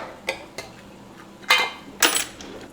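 Canned black beans being drained and rinsed in a kitchen, a few sharp metallic clinks and knocks of can and dishware, with short bursts of splashing in between.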